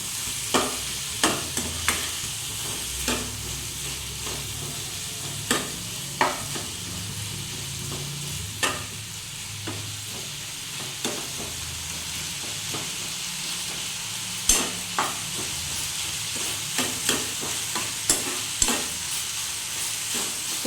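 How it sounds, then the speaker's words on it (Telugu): Finely chopped tomatoes fry in a pan with a constant soft sizzle, while a spoon scrapes and clacks against the pan in irregular strokes throughout. "2 టమాటాలు సన్నగా కట్ చేసి పెట్టుకున్నాం, అవి వేసుకున్నాం. ఇలా కొంచెం దగ్గరకు అయ్యేటట్టు ఫ్రై చేసుకోవాలి."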